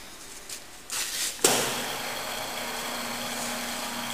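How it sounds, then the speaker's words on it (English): Work head motor of a Seest MC 62 crankshaft grinder, counterweights fitted, starts with an abrupt burst, then settles into a steady, moderately loud whirring hum with a low drone. "Let's start up the machine here the work head."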